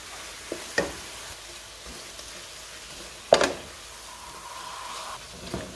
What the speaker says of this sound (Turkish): Kıymamızı ilave edip bir güzel kavuralım